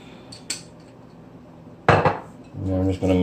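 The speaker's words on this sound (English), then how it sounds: "And I'm just going to mix all that up together." A utensil clinks and scrapes against a bowl while ingredients dressed with toasted sesame are stirred together for mandu filling, a single knock, then louder clattering and mixing close by, no speech.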